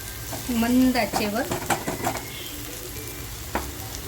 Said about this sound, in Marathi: आपल्याला हा टॅमॅटो मऊ होईपर्यंत ना हे छान असं परतवून घ्यायचं आहे